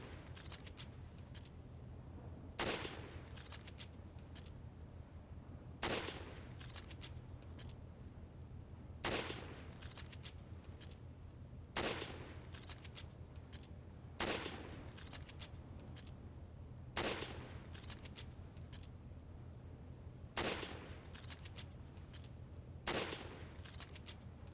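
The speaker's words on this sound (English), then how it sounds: "it has to be the sniper. I guess the rocket doesn't go that far. So we're just gonna keep taking pop shots until we hit it." Sniper rifle shots ring out in the game Resident Evil 5, about nine sharp, separate cracks fired at a slow, even pace every few seconds over a low, steady hum.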